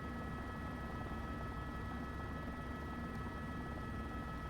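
Steady, dense rotor and turbine drone of an H145 helicopter in a flight simulator game, loud and constant throughout with no pauses.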